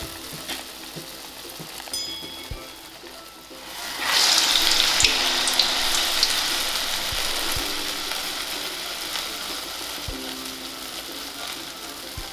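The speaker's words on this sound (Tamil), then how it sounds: "போட்டுட்டு இப்போ இதை சூடாக ரெடியாக இருக்கு எண்ணெயில்" Urad dal vada batter dropped into hot oil for crisp Tamil-style lentil fritters, breaking into a loud, dense sizzle after a quiet start with faint kitchen clatter, then frying steadily and close.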